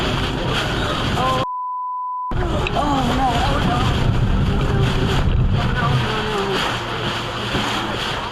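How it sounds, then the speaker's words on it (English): Strong wind and heavy surf pound the California coast during a storm, with waves flooding the shoreline; loud, continuous roaring gusts buffet the microphone, broken by a short silent gap. "Strong winds and heavy rain battered the California coast, pushing powerful waves far inland and flooding the shoreline"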